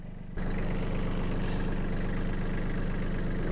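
A tractor engine runs steadily while pulling a Land Pride GS1560 grading scraper, a low, even rumble that starts abruptly after a brief quieter moment and holds at constant strength close by, with no talk.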